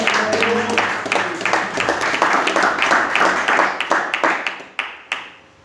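A church congregation claps in praise, dense rhythmic hand claps filling the room with voices mixed in, thinning to a few last loud claps at the end.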